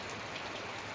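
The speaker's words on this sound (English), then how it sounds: "That's how our yard floods when it rains." Heavy rain pours down on a yard that floods into a river over the sidewalk, a dense, steady hiss of drops striking water and ground, close and continuous for a brief moment.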